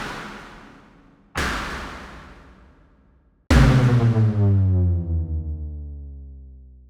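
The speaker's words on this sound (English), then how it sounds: "But it has this very, very rough impact sound." Synthetic percussion built from filtered noise with reverb, heard as three separate rough impacts, the last loudest with a ringing, decaying tail, each standing alone with no talk.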